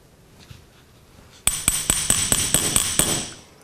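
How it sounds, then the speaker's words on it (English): Sharp metallic hammer strikes on copper over a bench block ring out in a fast, steady series of about ten blows, close and bright, after a brief quiet lead-in. "Place my bench block right on it so that when I'm hammering, it's not too loud."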